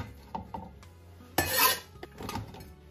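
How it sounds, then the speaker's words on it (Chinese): A lid goes onto a steamer pot holding cut carrot pieces: a few light clinks first, then one loud metallic clatter midway, followed by softer rattles. "盖上锅盖，大火烧开"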